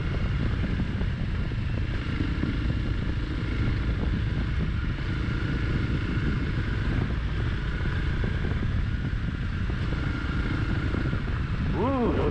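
A Honda CRF300 Rally motorcycle ridden fast off-road on a trail in Belgium gives a steady, continuous engine drone mixed with heavy wind buffeting on the microphone, with a rider's voice at moments.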